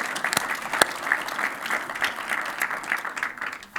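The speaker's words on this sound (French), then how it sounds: "je pense qu'on peut applaudir généreusement Caroline" Audience at a presentation on Arte's digital strategy breaking into generous applause, a full room of clapping hands, fairly close and sustained, with no talk over it.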